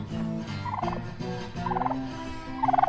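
Turkeys gobble in quick rattling bursts, three separate calls close by over a steady background murmur.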